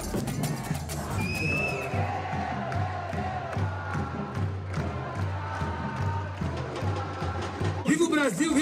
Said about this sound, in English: and the crowd went nuts.